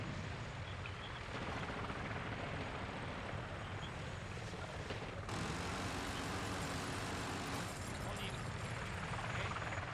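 Helicopter in the multiplayer mode of the Medal of Honor: Warfighter video game, a continuous loud rotor thrum and engine roar that holds steady throughout with no break.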